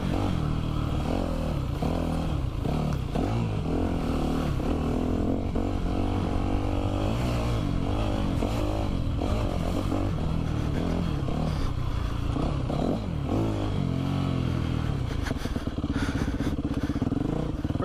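Yamaha YZ250F dirt bike engine running steadily while ridden at a motocross park, a continuous loud buzz with shifting revs and occasional clatter throughout.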